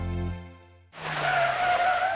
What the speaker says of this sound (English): I was hit and my car was spun out of control